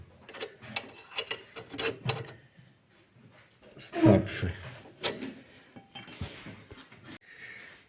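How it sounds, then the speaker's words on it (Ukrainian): A wrench turns a puller to press the tapered pin of a tie rod end out of the steering knuckle on a Fiat Doblo, giving repeated ratcheting clicks and metallic creaks with a louder strain near the middle. "Беремо відповідний ключ і тягнемо, поки не зіскочить, не видавить наш палець, який є конусним"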